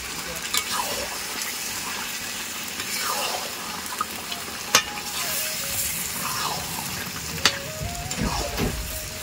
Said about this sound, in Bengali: তো চলো এখন চিকেনটা ঝটপট করে রান্না করে নিই